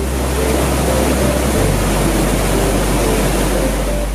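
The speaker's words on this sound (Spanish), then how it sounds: "observamos un humilde caudal de agua salir tranquilamente" A modest stream of water pours calmly out of the mouth of the Cueva del Gato cave in Benaoján, a loud, constant rushing wash with a low rumble underneath, unbroken from start to finish.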